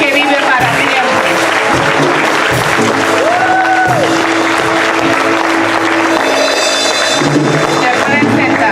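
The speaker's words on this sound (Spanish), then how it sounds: "Dale un fuerte aplauso al que vive para siempre." A church congregation breaks into loud, sustained applause close by, with voices and cheers mixed into the clapping over background music.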